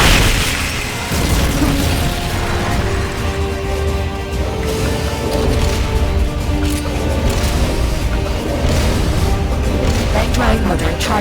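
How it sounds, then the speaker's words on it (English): Rocket launcher and weapon fire in Metal Gear Solid Peace Walker: loud booms and bursts over a dense, rumbling mechanical din, with repeated impacts and crashes running throughout and no talking. "Flamethrower engaged. Firing rocket"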